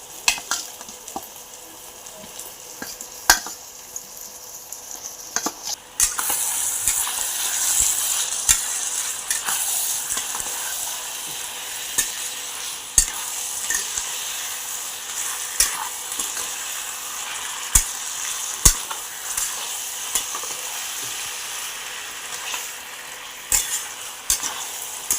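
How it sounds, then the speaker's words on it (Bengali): Marinated chicken, seasoned with salt, chili, turmeric and lemon, fries with garlic and ginger in a pan for chicken biryani, making a steady hissing sizzle that grows louder after a few seconds, broken by scattered utensil clicks and scrapes. "আমার রসুনটা আর আদাটা ভাজা ভাজা, চিকেনটা দিয়ে দেবো।"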